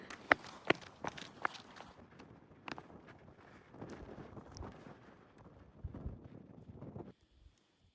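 Strong gusting wind buffets the microphone at a canyon overlook at the end of a hiking trail, a broad rumbling roar with sharp bumps and footsteps, dropping away abruptly near the end.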